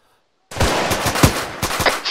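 Rapid gunfire in the military shooter Arma 3, a burst of repeated loud shots at an uneven rhythm with sharp cracks standing out over a dense roar, heard alone.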